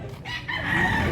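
A young stag rooster at a chicken market in Consolacion, north Cebu, crows once nearby, a short loud strained call rising in pitch.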